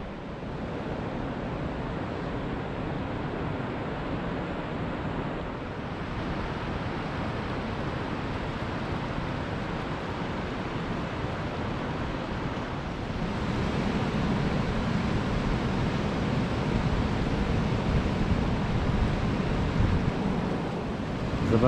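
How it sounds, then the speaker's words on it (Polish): Turbulent water of the Bóbr river churning and mixing beneath a long railway viaduct in Bolesławiec, a steady broadband rush that swells slightly louder partway through, with no voices. "Zobaczcie Państwo, ile tutaj się wody miesza."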